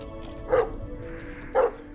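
A dog in Peter Pan (2003) gives two short, sharp barks about a second apart, fairly close and alone over a quiet hum.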